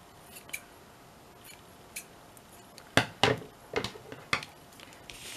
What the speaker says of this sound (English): I'm going to just cut a little bit of this off.